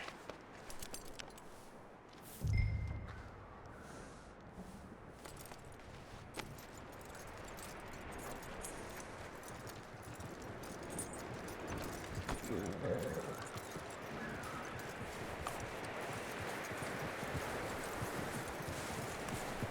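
A horse's hooves clip-clop at a steady walking pace in Red Dead Redemption 2, soft and mid-distance over rustling ambience, with a brief thump early on and a voice speaking over part of it.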